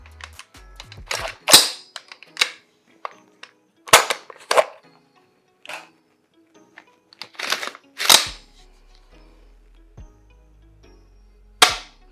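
Dry-fire trigger clicks from a Spikes Tactical DMR rifle: a string of sharp, close, isolated snaps and lighter reset clicks spaced irregularly across the stretch, each crisp and loud against near silence.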